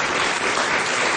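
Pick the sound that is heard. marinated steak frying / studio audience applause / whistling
studio audience applause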